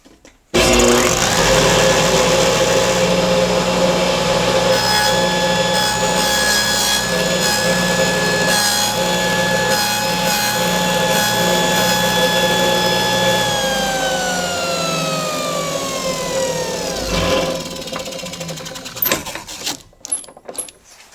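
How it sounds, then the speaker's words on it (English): A table saw with a dado blade spins up and cuts through a wood board, a steady loud whine and grinding buzz holding for several seconds before the motor winds down and the blade coasts to a stop. "raise the dado blade up to cut roughly a 1/2 inch tall"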